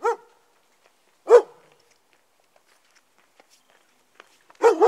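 A dog barks in short, separate bursts: one, then another about a second later, then a double bark after a long quiet gap, each clear and fairly close against near silence.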